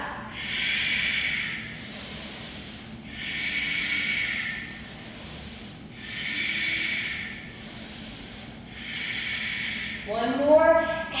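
Slow, deep breaths repeat in even cycles during a yoga stretch, each inhale and exhale a broad airy rush lasting about two seconds, close and fairly loud with no talk over them.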